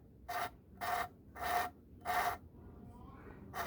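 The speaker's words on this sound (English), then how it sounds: "you can hear that grinding" Four steady rasping grinding strokes of valve lapping on a Yamaha YZ250F engine, in an even back-and-forth rhythm, close and loud, followed by quieter scraping.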